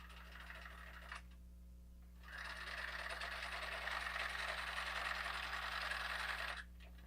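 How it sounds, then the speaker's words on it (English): Sewing machine stitching along a line on a cloth diaper, a steady mechanical whir and clatter that runs in two bursts separated by a short pause, with a constant low electrical hum underneath. "Sew on the line."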